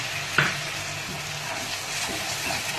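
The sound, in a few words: stirring Pindi chana masala with chickpea water in pan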